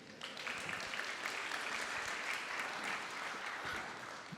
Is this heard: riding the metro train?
no